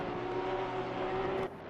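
Onboard engine of a Porsche GT3 race car in a racing video game at Barcelona, a loud steady high-revving drone that holds constant and then drops suddenly near the end, with no talking.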